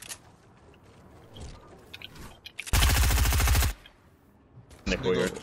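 A burst of rapid automatic gunfire in a video game, loud and close, lasting about a second, with quieter talking and game sounds before and after.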